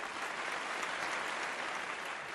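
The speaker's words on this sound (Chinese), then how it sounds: "让我们再次把掌声和敬意送给两位老师" An audience at a public archaeology lecture applauds two teachers with steady, sustained clapping that sounds like a full room, even in level from start to finish.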